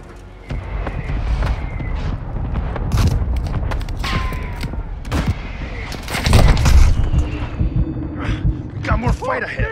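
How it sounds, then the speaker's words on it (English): Mortar strike explosions in Call of Duty: Modern Warfare II (2022) on the Taraq map during Kill Confirmed, heavy booms and blasts rolling under dense gunfire and battle noise, with a loud surge midway and voices calling out throughout. "Our mortar strike is inbound."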